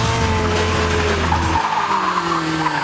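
An Ariel Atom sports car on a test drive skids with loud, sustained tyre squeal as its engine drones, the low engine note dropping away partway through while the screech carries on.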